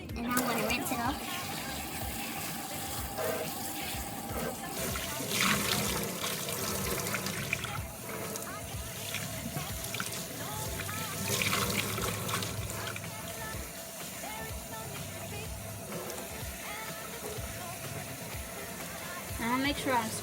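Running water rinses a kinky curly wig, a steady splashing trickle that continues for the whole stretch, close by, with rubbing and handling sounds mixed into the flow.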